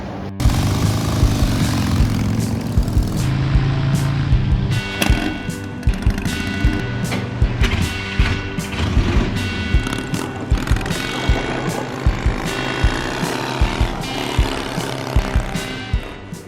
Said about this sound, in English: It's a Sheldon lathe made in Chicago.